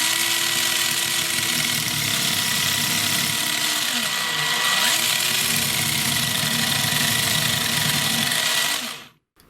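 A Tamiya M05 RC car with wheel shake drives and turns, giving a steady high electric motor whine with a sweeping pitch dip mid-run as it corners, close and continuous until cutting off abruptly at the end.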